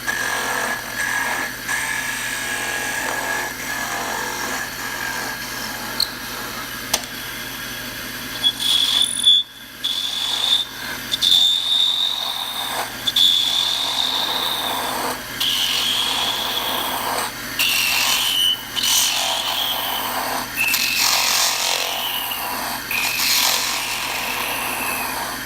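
A wood turning tool on a lathe cuts away a bad piece of wood, giving a continuous rasping, scraping noise with uneven surges and brief dips, close and moderately loud.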